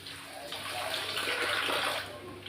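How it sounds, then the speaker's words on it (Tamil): Soaked tamarind water poured into a pot of tomato kootu, a steady close liquid splash and trickle lasting about two seconds before tapering off, with no talking. "இந்த புளி கொஞ்சம் ஊற்றிக்கிடலாம்"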